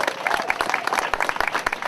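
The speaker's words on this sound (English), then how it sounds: "We should give them an applause." A small group at the opening day ceremony for the Untamed ride at Canobie Lake Park claps in scattered, uneven bursts, fairly close and moderately loud, with a murmur of voices underneath.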